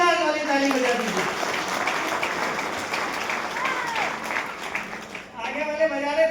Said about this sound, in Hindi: दोस्ती के नाम पर फिर से एक बार दमदार वाली ताली बजा दीजिए।